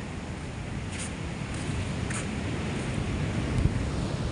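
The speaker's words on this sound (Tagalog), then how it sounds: "walang tigil na ang pag-akyat dito ng tubig ng alon" Sea waves surge steadily up a flooded river mouth beside a house, a continuous loud rushing wash with low rumbling and no voices.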